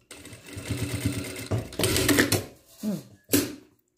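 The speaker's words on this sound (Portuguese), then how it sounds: "Vamos lá agora na máquina e vamos costurar" A sewing machine stitches sweatshirt fleece for a pajama jumpsuit with cuffs, running in a steady mechanical whir for about a second and a half, then in a louder burst and two short final runs, with no talk.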